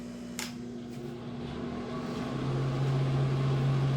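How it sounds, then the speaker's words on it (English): Bathroom exhaust fan running at what sounds like full speed in a house with an electrical fault, a steady droning hum with a tone rising and settling, a light click near the start, no talk. "Now the exhaust fan is running. Sounds like full speed."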